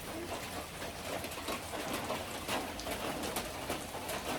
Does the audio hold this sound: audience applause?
no